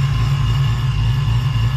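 A Vortech-supercharged 1989 Ford Mustang GT V8 runs steadily, a loud low throbbing drone with a constant hum, heard alone without talk.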